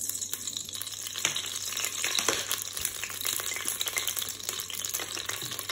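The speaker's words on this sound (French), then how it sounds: "Donc là je vais mettre l'huile dans le cookéo." Oil sizzling and crackling steadily in a Cookeo multicooker at the start of a fish thieboudienne, with a continuous close frying hiss and occasional stirring clatter, no voices.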